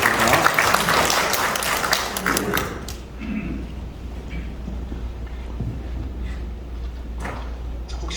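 Audience applause at a residents' briefing on the Beomeo Jugong redevelopment, a dense wash of clapping for about three seconds in a hall, then fading to quieter room noise with a few scattered claps later.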